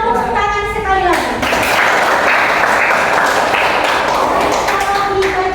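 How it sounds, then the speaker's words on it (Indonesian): Classroom applause from a class of students after three groups finish, loud, dense clapping filling most of the clip, with a short burst of voices and tapping at the start. "Tepuk tangan sekali lagi."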